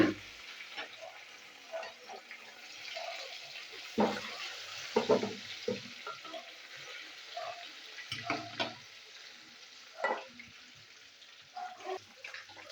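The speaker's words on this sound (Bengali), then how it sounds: "মাছগুলো আমি ভেজে দিই।" Pieces of salted katla fish frying in hot mustard oil, a soft, quiet sizzle with intermittent crackles and pops scattered over several seconds.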